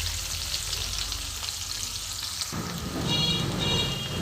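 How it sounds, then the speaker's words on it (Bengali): Onions fry in a pan for a rohu fish kofta curry, a continuous close sizzle with soft crackling that grows louder and fuller for the final couple of seconds. "পেঁয়াজটা একটু ভাজা ভাজা হয়ে এসছে, আর একটু ভাজা ভাজা হবে।"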